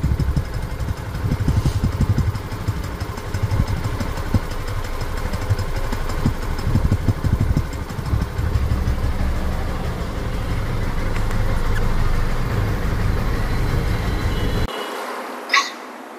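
A 2022 Yamaha FZ Version 2 motorcycle engine runs at idle close by, a steady low throb with a slight uneven pulse that stops abruptly near the end.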